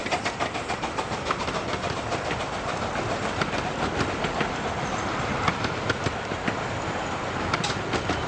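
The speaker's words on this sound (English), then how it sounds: "Hurricane runs past with one of the first trains of the season to Dungeness." Miniature railway steam locomotive Hurricane runs past with a passenger train bound for Dungeness, a steady broadband roar with rapid clickety-clack of wheels over rail joints, close and fairly loud throughout with no voices.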